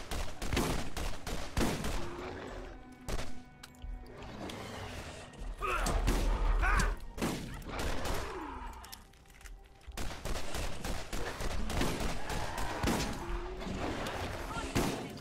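Gunfire rattles through a Borderlands fight in dense, rapid bursts and thuds that keep going almost without a break, with a voice talking over the shooting.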